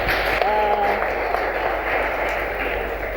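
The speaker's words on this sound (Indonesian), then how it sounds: "Tepuk tangan untuk Bu Siti." Audience at a community socialization event applauding Bu Siti, chair of Muslimat, with a brief burst of clapping under a speaking voice.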